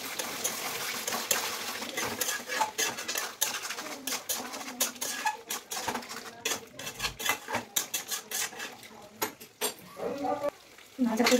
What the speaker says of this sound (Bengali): মশলা জলটা দিয়ে দিলাম, একটু ভালো করে নাড়বো